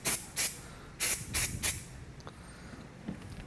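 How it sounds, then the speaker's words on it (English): Several short bursts of aerosol adhesive sprayed onto a Ford Super Duty truck seat during re-upholstery, four loud close hisses in quick succession followed by fainter handling noises. "spray it on there and set that down"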